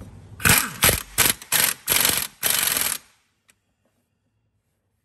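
A bolt is fitted into a Chevrolet Cruze engine during head gasket work, heard as six quick metallic clinks and ratcheting bursts in a rapid sequence over three seconds, close and sharp, followed by near silence.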